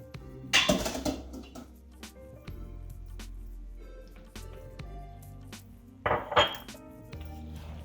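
A spoon scrapes and clinks against a pot while stirring a goulash of elbow macaroni pasta and meat, with two louder bursts of metallic clatter near the start and end and quieter knocks between.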